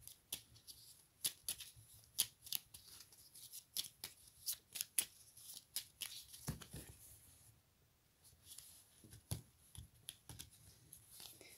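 Tarot cards are shuffled and drawn by hand, making soft, close papery riffles and flicks in irregular bursts with a quieter pause in the middle, faint and intimate.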